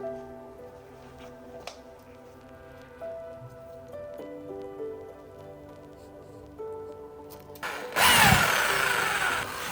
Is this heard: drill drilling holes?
yes